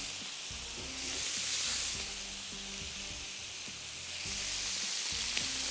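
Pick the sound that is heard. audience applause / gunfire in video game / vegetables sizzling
vegetables sizzling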